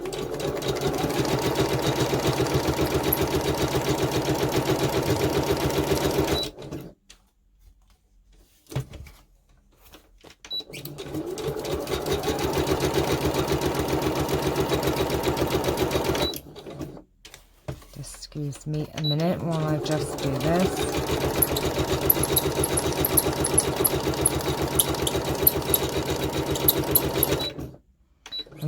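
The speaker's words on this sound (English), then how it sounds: "let me just move my sewing machine a bit nearer. And then all I just do is straight stitch around the edge." A sewing machine runs straight stitches around the edge of paper book page tags in long bursts with short pauses between runs, close and loud, while a person talks briefly over it.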